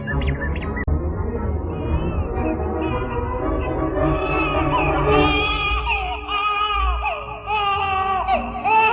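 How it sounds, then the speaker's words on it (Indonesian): A baby cries in a radio drama sound effect, a loud, continuous wailing with rising and falling sobs that holds near and unbroken throughout, with no other voices present. "Yang bersuara seperti ini hanyalah bayi."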